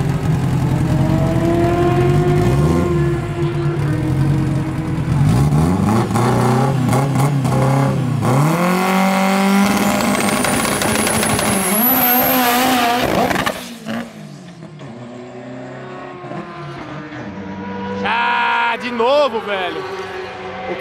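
Subaru 4x4 drag car with all-wheel drive launching hard and accelerating, engine screaming up through the revs with rising whine, a brief lift and gear changes, then a quieter pause as another loud rev returns; loud and close, with talk over it.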